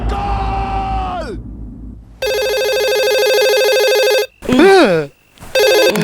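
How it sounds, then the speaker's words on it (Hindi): A telephone rings in a dramatic action film scene, a steady electronic ring lasting about two seconds and then a short burst more, between loud shouting and raised voices. "किसका फोन है?"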